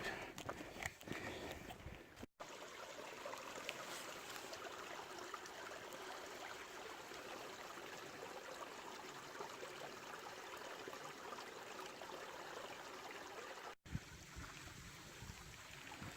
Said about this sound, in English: A lot of running water out here.